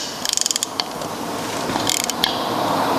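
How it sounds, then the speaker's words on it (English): A long ratchet clicks in quick bursts while tightening bolts on air ride suspension bags fitted to a Fiat Ducato motorhome, a close run of sharp clicks, then a few more spaced clicks and another short burst. "You can see I've got quite a long ratchet"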